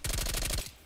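A short rapid automatic-weapon burst from the video game Black Ops Cold War, about seven loud, evenly spaced shots in under a second before stopping.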